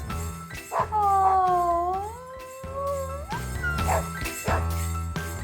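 Several puppies howl together in long, wavering rising and falling tones, with short yips and whimpers breaking in, close and fairly loud, over a steady low hum.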